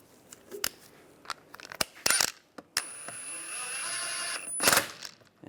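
A 17mm socket removes and refits wheel bolts on a 1998-2010 Volkswagen Beetle, giving sharp metallic clicks and clinks, a brief ratcheting burst, and a sustained mechanical whirr before a final clatter, all close and with no talking.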